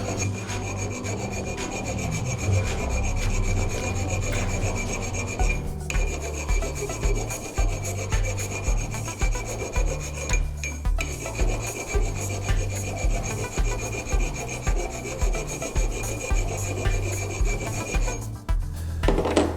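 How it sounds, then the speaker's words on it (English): Hand file rasping back and forth on the edge of a metal go-kart axle, a steady run of repeated close strokes at even rhythm with no talking. "I'm trying to keep the file just on the edge of the axle."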